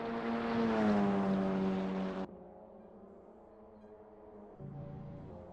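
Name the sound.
Cupra race car engine in a sim racing video game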